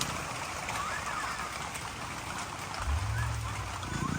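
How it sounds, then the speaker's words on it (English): Rain falls continuously on an outdoor animal enclosure with roofed shelters, a soft, even hiss with a low rumble rising near the end. "I don't know if you guys can hear it over the rain."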